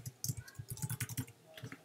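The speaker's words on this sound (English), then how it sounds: "Just type in your password" Rapid clicking keystrokes on a computer keyboard as a password is entered, a quick, close burst of evenly spaced taps.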